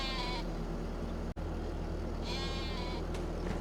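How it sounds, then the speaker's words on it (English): Sheep bleat in Farming Simulator 25 on a stone farm, two drawn-out calls against a steady, loud in-game farm ambience with a brief click between them. "Just to make sure we're good with the sheep."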